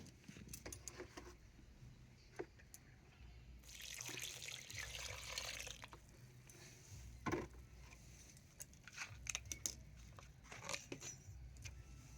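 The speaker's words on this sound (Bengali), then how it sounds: "এবারে গাছে জল দিয়ে দেবো" Water poured onto the soil of a young mango plant in a pot, a soft broad splashing wash lasting a couple of seconds amid faint trickles, drips and small clinks.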